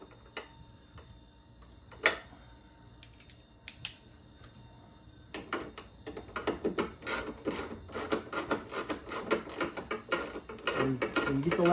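A ratchet wrench turns out the lift support bolts on the rear hatch of a 2013 Subaru Outback, with a few isolated clicks at first, then a steady run of close, sharp ratcheting ticks.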